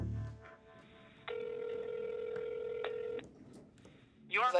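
A telephone call being placed: a few faint dial tones, then a steady ringback tone for about two seconds, ending in a click and brief voice-like sounds, over a soft background hum.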